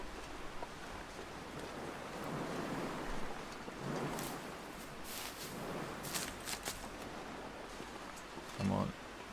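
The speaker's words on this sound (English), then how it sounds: "Wow, it's windy." Wind blowing in the survival video game The Long Dark, a steady broad rushing gust that swells and eases for several seconds, moderately loud and continuous.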